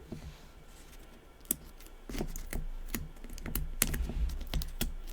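Quick, uneven clicks and taps of fingers typing on a computer keyboard, close and fairly quiet, with no voices.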